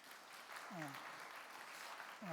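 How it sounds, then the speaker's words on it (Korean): A congregation at a Sunday church service claps after a special song, heard as a faint, distant wash of applause while a voice speaks over it. "우리 다 같이 뜨거운 박수를 보내겠습니다."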